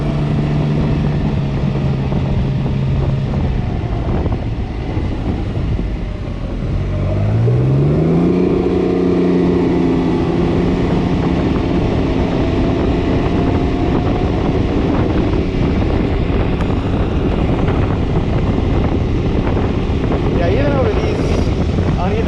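A 2019 Can-Am Ryker Rally three-wheeled motorcycle riding along at a steady engine drone, rising in pitch as it accelerates partway through, with constant wind rush over the microphone throughout.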